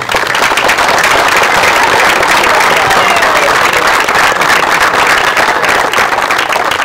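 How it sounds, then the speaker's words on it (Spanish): An audience applauds at the opening ceremony of a tournament, with loud, dense, continuous clapping filling a hall from start to finish, and crowd voices mixed into the sound. "un fuerte aplauso para todos ustedes."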